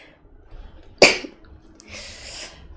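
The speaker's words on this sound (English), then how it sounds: "Okay, I need to sneeze." A single sharp sneeze bursts out close to the microphone, followed by a breathy exhale in an otherwise quiet room.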